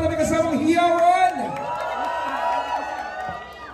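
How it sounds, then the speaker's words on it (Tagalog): At a film premiere night, a crowd cheers and whoops with excited shouting that swells and then settles, with voices calling out among the noise. "Palakpakan may kasamang hiyawan!"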